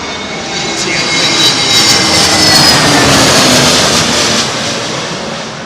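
An Airbus Neo jet with sharklet wingtips arrives at blustery London Heathrow, a loud, continuous engine roar that swells and passes close by, mixed with wind noise.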